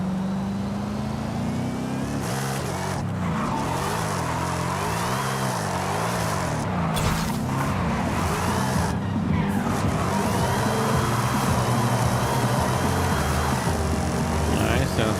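Forza Horizon 5 car driven with a steering wheel and drifting, engine revving up and down continuously with tire squeal and skids, loud and close throughout with a few brief cutouts.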